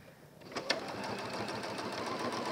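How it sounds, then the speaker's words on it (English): A sewing machine stitches lining fabric, starting after a brief quiet moment with a couple of clicks, then running in a steady fast whirring rhythm, close and alone. "I'm just going to come back to sewing here"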